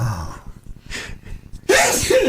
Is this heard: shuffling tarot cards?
no